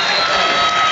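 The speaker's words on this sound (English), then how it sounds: "Applause of approval from the racecourse faithful" A stadium crowd at the racecourse in North Wales applauds and cheers at the final whistle of the Wales versus Gibraltar international football match, a dense, loud, continuous roar that lasts under a second.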